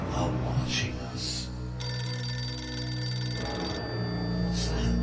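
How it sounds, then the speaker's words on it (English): A telephone bell rings in one sustained burst of bright, shrill ringing in the middle of the clip, set over a steady low background murmur. "What's that? The phone?"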